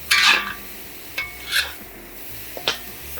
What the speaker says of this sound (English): We're going to cook these up